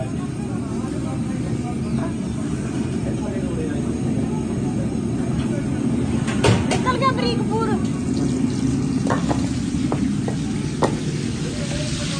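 Shakkarpare sweets fry in a large pot of oil at an outdoor halwai cooking setup, a steady bubbling hiss with scattered clinks and a faint rumble, under nearby voices.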